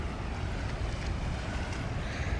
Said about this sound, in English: water's crashing in over the rocks here